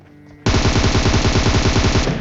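Sustained automatic fire from a SCAR-L rifle in a battle royale video game, bursting in abruptly and hammering as a rapid, loud, continuous stream of shots for nearly two seconds.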